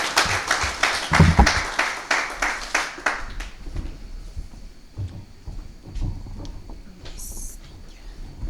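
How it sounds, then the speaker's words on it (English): A small group claps for the mayor at a football tournament media launch, a few seconds of loose, fairly close clapping that stops quickly, followed by quieter room noise and scattered knocks. "Round of applause for Mayor Musa Dladla."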